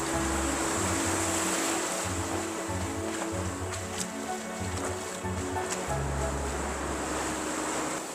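Sea waves wash into a cut rock beneath a mountain at Phokara Beach in Balochistan, a steady roar of surf with wind buffeting the microphone and a low intermittent rumble.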